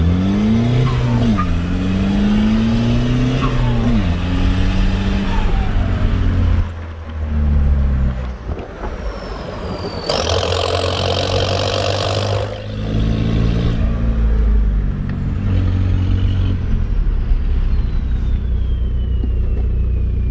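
A mini mud truck with a hood stack and no wheels fitted revs its engine in a couple of loud, close rips, the pitch climbing and dropping over a steady rumbling idle.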